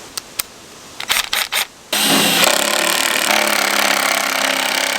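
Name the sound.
Gold Rat off-grid jaw crusher crushing gold ore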